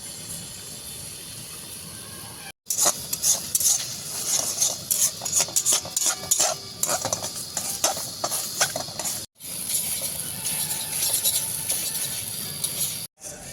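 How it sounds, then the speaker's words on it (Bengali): Beaten eggs seasoned with pepper and salt being scrambled and fried in a pan, with steady sizzling, hiss and repeated scraping of a spatula, broken by a couple of brief silent cuts. "ডিমটাকে ঝুড়ো করে ভেজে নেব"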